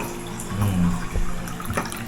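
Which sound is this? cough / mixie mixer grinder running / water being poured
water being poured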